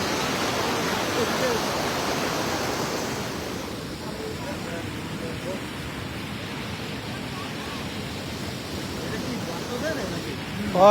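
Flood water pours through a breached road beside a village market, a loud steady roar of rushing water heard close by, with voices occurring at times.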